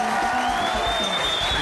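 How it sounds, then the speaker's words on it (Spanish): Studio audience at a Colombian television variety show cheers and whoops over continuous applause, loud and crowded, with voices blending into the noise. "Un aplauso para ellos nuevamente."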